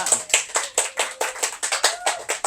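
At a youth church service, the room claps in unison: about a dozen crisp, evenly spaced claps in quick, steady rhythm, close and fairly loud.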